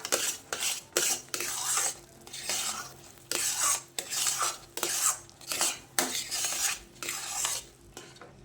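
Sooji halwa with almond and cashew pieces and ground cardamom is stirred in a pan, a rhythmic series of close scraping strokes with a metal spoon against the pan, repeating roughly every half second over a soft sizzle.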